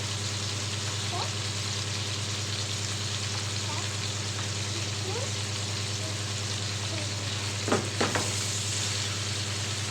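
Peppers and onions fry in a pan for liver shawarma, giving a steady close sizzle throughout with a few faint stirring scrapes and clinks near the end.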